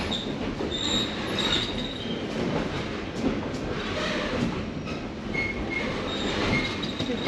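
The Essex steam train rolls along its rails in a steady, close rumble. Faint squeals and rattles of wheel and carriage sit within the continuous noise.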